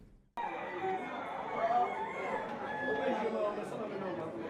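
Roosters crow at a cockfight arena in Capesterre-Belle-Eau, Guadeloupe, with drawn-out calls rising over a steady crowd murmur and chatter that fills the whole stretch.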